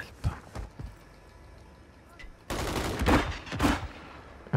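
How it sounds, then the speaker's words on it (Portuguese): Gunfire from a Call of Duty match on Rebirth Island, heard as several sharp bursts, sparse early on and then a denser, louder volley near the end, with no talk over it. "Eu vejo os tiros a passar."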